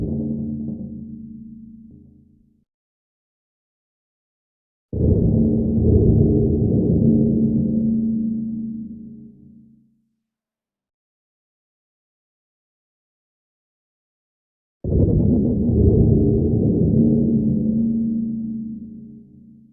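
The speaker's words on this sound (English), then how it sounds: "long reverb with EQ filtering highs and chorus with automated" Low, dark tones through a long reverb with highs filtered by EQ and chorus swell in and decay slowly into silence, with dull muffled highs and a wavering, doubled shimmer; the pattern repeats three times.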